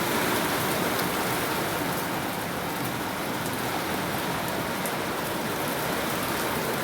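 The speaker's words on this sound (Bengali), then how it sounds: "দেখো বৃষ্টি পড়ছে, আর ওই ওই দুটো শাড়ি দেখো আনতে পারলাম না, এত করে বৃষ্টি পড়ছে।" Heavy rain pouring down in a steady, dense hiss that stays loud and even throughout, with no voices.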